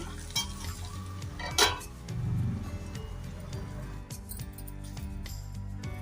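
Salted bitter gourd pieces stirred in a metal pan or bowl, with scraping and clinking of utensil against metal, a sharper clank partway through as the lid goes on, and a soft low rumble under the handling.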